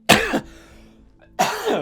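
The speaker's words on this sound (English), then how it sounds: "sorry about all the coughing" Two harsh coughs, one at the start and another after a quiet pause, close and loud with no talking.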